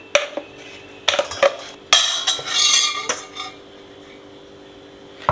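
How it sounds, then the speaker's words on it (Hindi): Ground idli batter of dal and rice scraped from a grinder into a large bowl: sharp metallic clinks and scrapes of a spoon against steel come in a few short bursts, near and clear, with quiet pauses between. "तो इसको एक बड़े बोल में निकाल लेंगे।"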